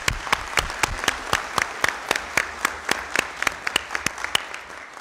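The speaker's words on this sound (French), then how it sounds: "je voudrais qu'on vous applaudisse" Applause at a municipal council meeting, a modest group clapping with distinct, rhythmic individual claps standing out over a steady patter, close and fairly loud for about five seconds.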